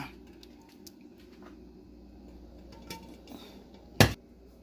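Cooked black beans are added to a pot of soup and mixed in, giving soft wet patters and faint scrapes, then one sharp metallic clatter close up near the end.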